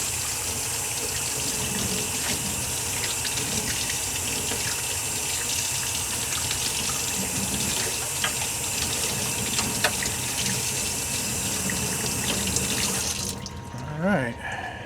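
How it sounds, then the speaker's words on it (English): Hot tap water runs continuously over a New Haven 30-hour clock movement to rinse off cleaning solution, a loud close steady gush into a sink that stops abruptly near the end. "I like to use the hot water to get all any leftover gunk off that water."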